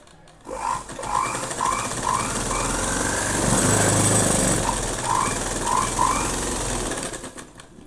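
A sewing machine stitches three blouse pieces together in one long, steady, close run of rapid rhythmic stitching, starting and stopping cleanly.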